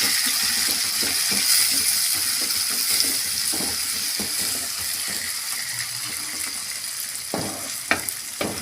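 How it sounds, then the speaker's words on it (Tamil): Chopped tomatoes sautéing in a pan for a rava vegetable dish, giving a steady close sizzle broken by scraping stirs and clinks of a utensil against the pan. "தக்காளி சேர்த்து நல்லா வதக்கிக்கலாம்"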